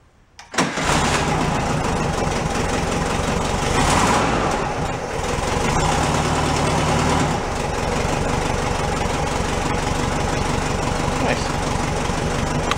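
A VW Bus engine on a bus with a failed transmission cranks briefly, then catches and settles into a loud, steady idle that runs close and unbroken.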